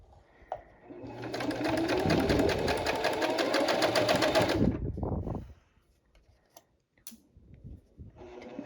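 A sewing machine stitches with a twin needle in one continuous loud whirring run of about three and a half seconds, then stops, followed by quiet handling clicks.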